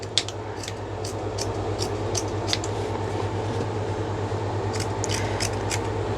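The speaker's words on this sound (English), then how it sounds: "I'm just going to cut over this side." Scissors snip through the yarn of a crocheted granny square purse in two bursts of quick, crisp clicks, over a steady low hum in a quiet room.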